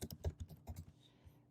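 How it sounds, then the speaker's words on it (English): Quick typing on a computer keyboard, a short close burst of crisp key clicks that fades into quiet. "I'll just type silence here in actions."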